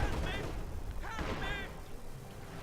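ZiS gun artillery barrage in a World War II real-time strategy match, heard as muffled, distant booms rolling under battle noise while a voice talks throughout.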